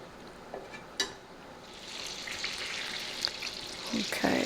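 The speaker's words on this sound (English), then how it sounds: "just added 1/3 cup of flour. And we got to stir this until it's mixed up real good" A spoon stirs flour into melted butter for a roux in a pan on the stove, giving a soft, steady sizzling scrape with a few sharp clicks, fairly faint and close.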